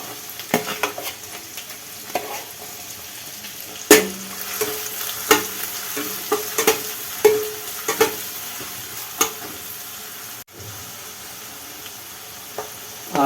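Chopped onions fry in oil for a shahi paneer gravy, a continuous close sizzle broken by repeated sharp clinks and scrapes of a spatula against the pan, stopping briefly near the end.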